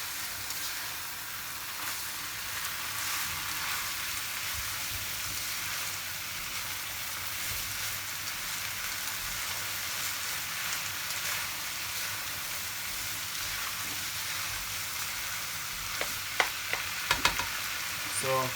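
Green peas cook in a hot pan for chicken fried rice, making a soft, steady close sizzle with occasional stirring scrapes and a few sharper clinks near the end, with no voices.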